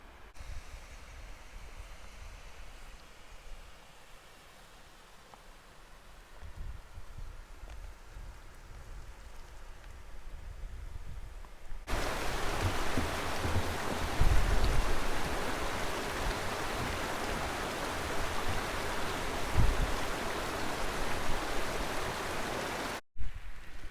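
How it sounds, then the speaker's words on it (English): Steady rain hiss on a hillside path near Helvellyn that grows noticeably louder and denser partway through, a broad wash of falling water with a few low knocks and no voices. "The rain is starting to come a bit heavier now."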